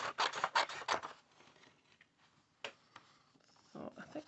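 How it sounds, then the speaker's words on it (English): Several quick crisp snips and rasps near the start as scissors cut out a paper stencil, then quieter scratchy handling with a couple more short cuts. "I just cut this out with scissors."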